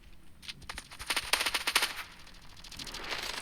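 Rapid bursts of automatic gunfire from the mobile shooter game Standoff 2, a rattling volley that builds and peaks midway, then gives way to quieter background game noise.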